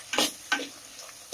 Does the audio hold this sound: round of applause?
no